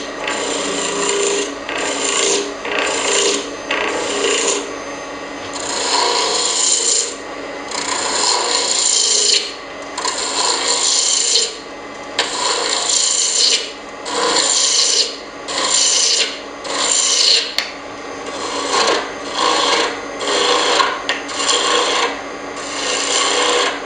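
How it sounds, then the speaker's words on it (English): A roughing gouge cuts maple and walnut on a spinning wood lathe, making loud, close rasping scrapes in a steady rhythm of repeated short passes. No voices are heard. "I'm just going to keep bringing it down with the roughing gouge"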